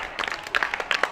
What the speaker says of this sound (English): Give a clap to them.